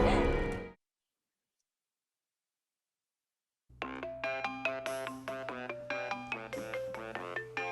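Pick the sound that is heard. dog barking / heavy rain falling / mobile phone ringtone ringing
mobile phone ringtone ringing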